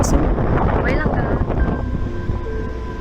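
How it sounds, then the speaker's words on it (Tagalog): Strong wind buffets the microphone outdoors in a rumbling, continuous roar, with people talking underneath. "Malakas na po ang hangin dito mga kaibigan."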